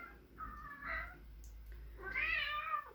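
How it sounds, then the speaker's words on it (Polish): A cat meows twice, close by and fairly soft, with a low background hum. "kot miałczy, ale nie jest głodny"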